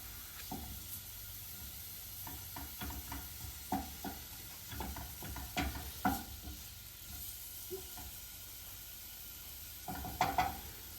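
Faint, steady sizzle of garlic frying in a hot pan, with scattered light clicks and scrapes of stirring throughout.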